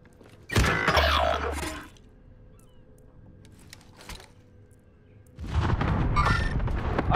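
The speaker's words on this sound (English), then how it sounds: "Rocket launched." Two heavy booming bursts from a video game rocket launch, about four seconds apart, each a loud broadband roar lasting over a second, separated by a low quieter rumble and a brief faint thud.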